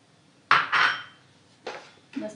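Besan roasting in a pan with finely chopped cashews, almonds and cardamom powder is stirred in three gritty scraping strokes, close and fairly loud, with short quiet gaps and no talking.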